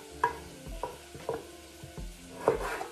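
Shallots sizzle and fry in a pan for a salad, a soft steady crackle close by with a few louder stirring scrapes and taps, and no voices.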